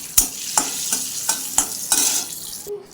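Cashews shallow-frying in oil in a pan, a bright crackling sizzle throughout, punctuated by five or six scraping stirs at a steady pace, close and clear.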